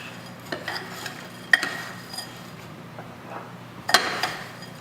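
A spoon stirring dry ingredients for an apple crisp in a bowl, with soft scraping and intermittent sharp clinks against the sides, close up and irregular.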